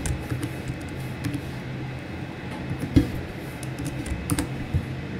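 Light tapping on a computer keyboard while entering a captcha on an online form, scattered soft keystrokes with one slightly louder tap, close and steady over a constant room hum.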